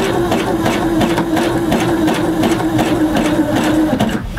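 A sewing machine stitches across fabric with the right needle and tension set, a steady loud mechanical whir with fast regular needle ticks running the whole time, close up and without talk.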